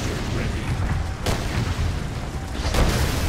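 A flame tank is destroyed in Renegade X, heard as a heavy, continuous rumble with sharp booms at about 1.2 and 2.8 seconds, loud and close throughout.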